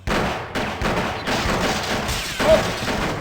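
Gunfire in the video game Blade Runner, a loud close volley of sharp blasts with abrupt starts and a sustained noisy roar between them, running for several seconds.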